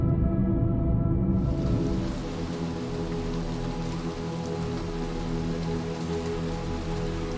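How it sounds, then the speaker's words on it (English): Steady rain pours in the game Little Nightmares 2, a loud, dense hiss of drops on surfaces that fills the whole stretch, slightly brighter at first and then settling into a constant wash. "Sure, you're enjoying the rain."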